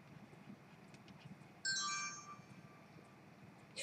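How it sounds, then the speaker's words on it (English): A bright electronic alert tone rings out briefly, a short chime-like phone notification over a quiet room hum, followed by another burst at the end. "It's just my phone, like, hey, you have a text that you haven't answered."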